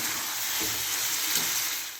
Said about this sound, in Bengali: টমেটোটা বেশ ভালো করে ভাজা হয়ে যাবে জল বেরিয়েছিল এবার ভাজা ভাজা হয়ে শুকনো হয়ে গেছে